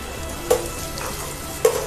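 Onion and long-sliced tomato fry in a pan for an egg roast, a continuous close sizzle with two sharp scraping strokes of a spoon stirring them.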